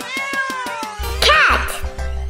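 A voice imitates a cat, giving several short, clear meows in a row, close and loud, with a rhythmic patter of sounds before them.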